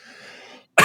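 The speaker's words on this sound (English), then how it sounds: "Same time cough." A faint breathy sound trails off into a brief silence, then a single sharp cough bursts out loudly at the very end.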